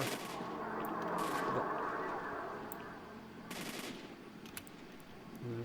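Gunfire in the video game S.T.A.L.K.E.R.: Shadow of Chernobyl, two bursts of rapid automatic shots separated by a few seconds of quieter ambient rumble, with no talking.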